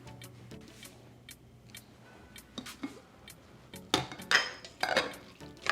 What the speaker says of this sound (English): I'm just going to give it a quick stir.